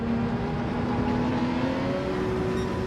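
Ferrari race car engine in Gran Turismo 7 holding a steady high drone down a straight in a drag race toward the first turn, loud and continuous with no talk.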